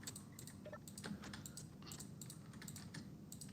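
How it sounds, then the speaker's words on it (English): A computer mouse is clicked rapidly and repeatedly during a space-building game session, producing a fast, irregular run of faint, sharp clicks over a low background hum. "I'm just going to spam my mouse click so everyone in chat can probably hear my mouse clicking."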